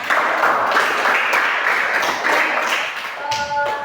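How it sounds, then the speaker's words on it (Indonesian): Children applauding in an elementary school classroom, a dense, loud burst of clapping that carries on steadily and thins toward the end. "tepuk tangan buat kita semua"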